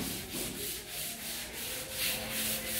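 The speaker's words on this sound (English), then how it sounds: "there's one of the painters sanding the second coat of skim" Steady rhythmic rasping of sandpaper scraping back and forth across a plaster skim coat on a wall, close and continuous, with no talking.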